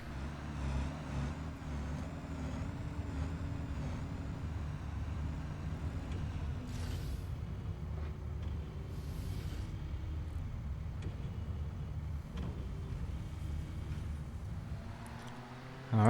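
A truck in the factory-building game Satisfactory drives a long route, giving a steady low engine rumble with some whooshing passes and a brief hiss of air brakes, continuous and moderately loud.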